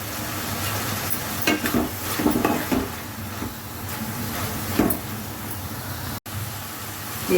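Frying in a pan with salt, sliced vegetables and pieces being added, a continuous close sizzle broken by several stirring scrapes and clatters, steady and moderately loud with no talking.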